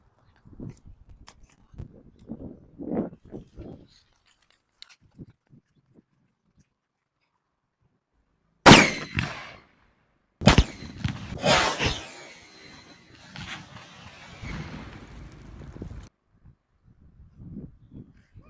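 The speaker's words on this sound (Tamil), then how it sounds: "கடைசி அந்த பிரம்மாண்டமான வெடி வெடிச்சிடுவோம்" A homemade rolled-paper firecracker set off for Diwali bursts with two sharp, loud blasts a couple of seconds apart, followed by several seconds of crackling fizz. Quiet voices chatter faintly before the blasts.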